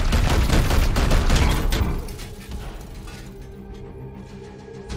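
A rapid volley of loud gunfire in the video game Warhammer 40,000: Chaos Gate – Daemonhunters for about two seconds, then fading into a lingering mechanical rumble and quieter tail.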